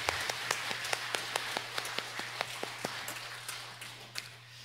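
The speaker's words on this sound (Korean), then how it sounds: "하나님께 영광의 박수 올려드리겠습니다." Slow, sparse clapping in a church service, roughly a dozen separate claps spaced about a third of a second apart, faint against a low steady hum.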